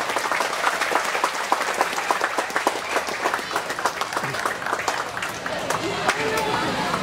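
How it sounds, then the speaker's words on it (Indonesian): A crowd claps for scouts at a regency government anniversary gathering with a thanksgiving prayer and shared fast-breaking meal. The applause is dense, lively and sustained, with some voices mixed in. "Tepuk tangan untuk pramuka."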